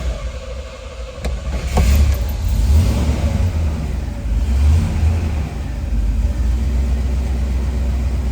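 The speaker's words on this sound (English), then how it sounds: "let's fire this car up" The big V8 of a 1968 Buick GS 400 Convertible turns over and catches, then revs loudly in deep, rumbling surges before settling into a throaty idle.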